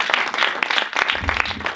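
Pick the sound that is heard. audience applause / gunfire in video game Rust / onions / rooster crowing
audience applause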